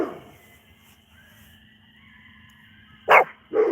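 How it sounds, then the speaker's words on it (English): A dog on a farm lets out two sharp, loud barks close by near the end, after a faint fading bark at the start and a quiet pause. "I've had enough of him barking"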